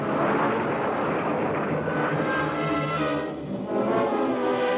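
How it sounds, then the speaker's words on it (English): Navy jet aircraft striking North Korean airfields during the Korean War, a continuous loud roaring engine drone that swells and dips slightly, heard alone without speech. "At the same time, Navy jets struck at North Korean airfields."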